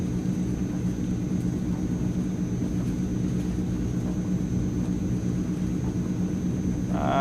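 Transall C160 military transport turboprops at takeoff power on a grass strip in Microsoft Flight Simulator, a steady loud engine rumble and drone holding constant throughout with no talk.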